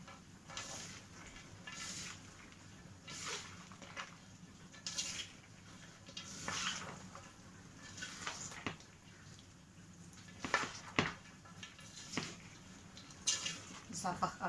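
A spoon clatters and scrapes in a pot while chopped vegetables and onion are stirred for a fresh-cucumber rassolnik, with irregular clinks and soft wet shuffling throughout.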